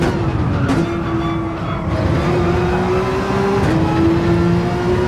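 A race car on hard tires at Brands Hatch in Gran Turismo 7 drones loudly and continuously, its engine note holding steady with slight pitch shifts and gear changes as it brakes into a corner.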